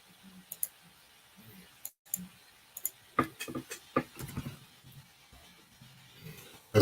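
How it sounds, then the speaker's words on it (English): Typing on a computer keyboard during a live forex trading session, an irregular run of quiet, close key clicks that bunch into quick bursts and then trail off. "As I say that, I'm typing a whole nother pair."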